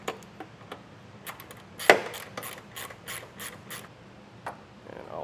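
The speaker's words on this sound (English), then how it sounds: "I'm going to take a 8mm socket and get this ground removed" A ratchet with an 8mm socket turns a ground bolt on a 2022 Ford, giving irregular bursts of close mechanical clicking with one louder knock partway through.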